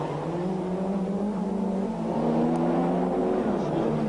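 Rally cars from a 1993 night rally push through tight false chicanes on closed roads, their engines droning steadily and loud with shifting revs, a continuous close mechanical roar with no talk.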